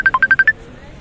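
A telephone ringtone plays a quick run of six short electronic beeps in a fast rhythm, loud and close, then fades into quiet room noise.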